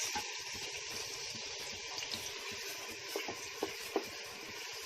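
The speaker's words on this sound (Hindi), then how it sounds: "अब उसमें जाएगी अपनी प्याज, इसमें अब जाएंगे अपनी 300 ग्राम प्याज।" Onions, about 300 grams, dropped into hot ghee and oil for mutton khichda begin frying with a steady, moderately faint sizzle that carries a watery hiss, with a few small pops near the end and no talking.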